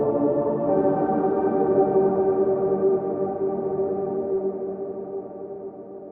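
A custom synth patch built on a Kontakt Play series player instrument, soaked in reverb: a sustained, harmonically rich pad-like tone that swells and slowly fades over about six seconds, with no voices.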